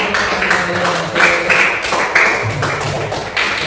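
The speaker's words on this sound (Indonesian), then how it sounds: "Ya, tepuk tangan" Pupils in a fifth-grade primary school classroom clap their hands together, a steady, dense patter of applause that continues throughout.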